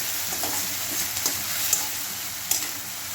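Tempering for dosa sizzling in a hot pan, a steady close frying hiss with occasional soft pops and stirring clinks throughout, no voices.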